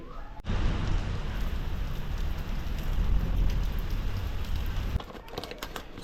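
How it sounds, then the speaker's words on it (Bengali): Heavy rain pours down outside in a loud, continuous wash after a brief quiet start, easing slightly near the end. "আর রিয়া জাস্ট বাড়িতে ঢুকেছে আর বৃষ্টি শুরু বাইরে"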